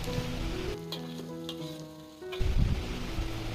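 Oil sizzling and bubbling as jengkol beans fry while stirred, with a tonal hum over part of it and a louder burst of crackling near the end.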